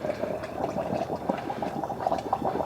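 Blazing hot water washes grease and debris out of a 7.3 Powerstroke air-to-air cooler, a steady, soft bubbling and splashing rush of liquid with no talk.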